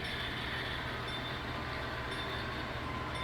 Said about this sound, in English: So the train is coming into the yard now.